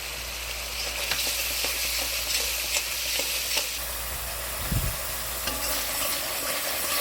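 Grated coconut being stirred into a hot frying pan for a bitter gourd milk curry, a steady broadband sizzle with soft scraping stir strokes and a brief low knock near the end, no talking.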